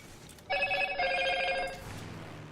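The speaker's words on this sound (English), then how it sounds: "And that's my phone going off for whatever reason." A mobile phone ringtone goes off during a home game-streaming session, a bright warbling electronic ring lasting about a second, fairly loud against a quiet room hum.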